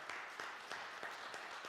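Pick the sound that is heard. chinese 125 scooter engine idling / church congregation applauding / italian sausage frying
church congregation applauding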